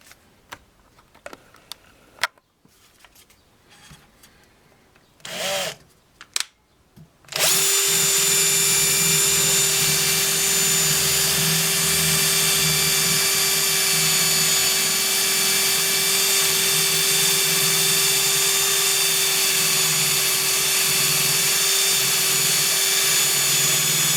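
A titanium nitride coated HSS two-step drill bit bores steadily from about seven seconds on, a loud continuous power-drill whine with a sustained high-pitched tone after a few brief clicks and short bursts.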